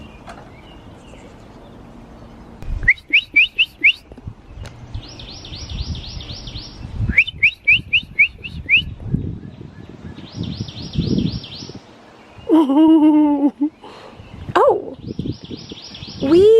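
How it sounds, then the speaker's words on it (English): Small birds chirp and sing in short repeated bursts of bright trills and tweets, near and fairly loud, between rustling and low background noise, with a brief spoken exclamation. "we are living in like a little bird paradise."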